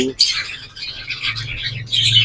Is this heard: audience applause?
no